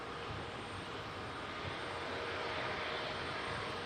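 EasyJet Airbus A320neo touching down at an airport: a faint, distant, steady engine rush and rumble through the whole short stretch, with no voices.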